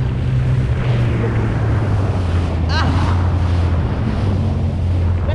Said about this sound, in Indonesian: Ombaknya lumayan kencang.